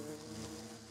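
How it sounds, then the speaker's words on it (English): A brief, soft, steady droning buzz comes from an aluminum bee in the ATM 7 Minecraft modpack, continuous and faint. "it was just an aluminum bee this first time"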